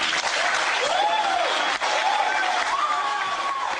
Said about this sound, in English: throwing them into the audience to the applause of attendees at Winter Soldier